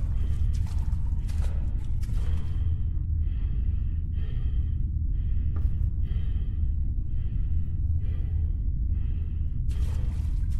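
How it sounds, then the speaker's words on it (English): Heavy, aggressive creature breathing in a horror video game, a loud close rasping rhythm of repeated gasps and snorts over a low rumbling game ambience. "I hear breathing."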